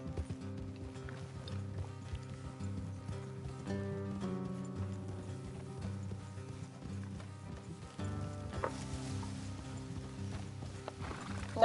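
Horse hooves clip-clop in Red Dead Redemption 2 over a bed of game music, a quiet steady trotting rhythm that continues under the score with no voices.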